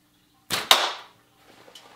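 A slingshot shot outdoors: a sharp snap of the band and the projectile's release, followed at once by a second crack of impact, then a faint rustle and a small later tick.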